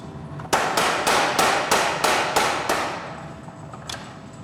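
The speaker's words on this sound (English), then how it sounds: "then I'll hammer it" A hammer strikes a steel blade on an anvil about eight times in a quick, even rhythm, each ringing blow loud and close, then one last lighter tap after a pause.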